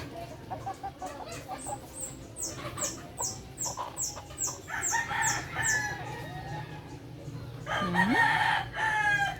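A frizzle chicken crows nearby, a drawn-out loud call that rises and falls, following scattered clucks and rustling from other fowl, with a faint voice now and then.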